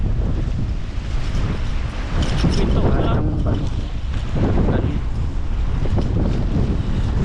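Strong outdoor wind roars steadily into the microphone, likely near water on a boat, drowning out the surroundings while someone talks over it.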